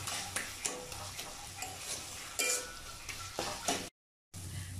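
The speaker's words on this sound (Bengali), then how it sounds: "এবার একদম লো আঁচে দিয়ে আমি কচু শাকটা রান্না করব।" Taro leaves (kochu shak) cooking on low heat with a fish head, with a constant close sizzle and scraping stirs in a pan. A few sharper clinks break through, then a brief dropout of silence.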